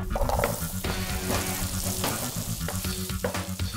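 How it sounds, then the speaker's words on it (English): Peeled baby onions browning in a generous amount of butter, a steady close sizzle and frying crackle with occasional stirring clatter throughout, no voices. "So we start with peeled baby onions, and then you brown them in quite a bit of butter"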